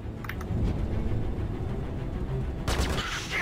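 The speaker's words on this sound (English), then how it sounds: "Stop shooting at me!" Sustained gunfire in the space combat game Star Citizen during a Vanduul Swarm fight, a dense continuous barrage of rapid shots and rumbling blasts, loud throughout, with a sharper burst of fire near the end.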